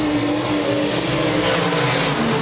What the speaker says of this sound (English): 6 cars, 8 laps, racing.